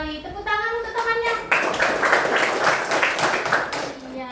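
Children in a classroom clap for a classmate, a dense burst of applause that starts after a teacher's brief spoken cue and continues loudly and evenly for about three seconds.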